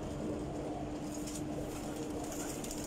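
Faisalabadi John Sire pigeons, shown in a fancier's loft, coo softly and continuously beneath a steady, noisy background hum, with no talking.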